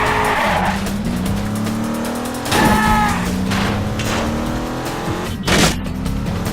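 Racing video game cars roar continuously at full volume, with engine drones, tire squeals and sudden crashing impacts as they smash into each other.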